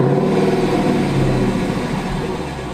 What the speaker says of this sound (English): hit the engine start button, and it roars to life. Every single time you start it up, it revs like that